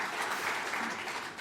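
A church congregation claps to welcome visitors during a Sunday service: steady, dense applause from many hands, continuous and fairly close, with no talk over it.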